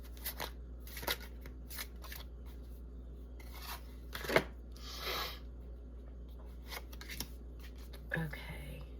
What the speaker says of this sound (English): we're gonna use the Angels of the Influence Tarot deck and pull some cards here